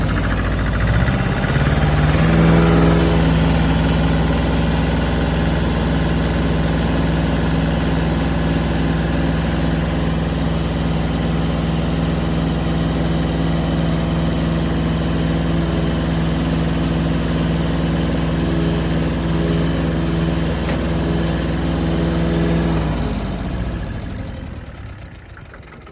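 A small, cheap tractor's engine idles steadily, close and loud, with a sustained low rumble and faint knocking, then throttles up and holds at higher revs before dying away at the end.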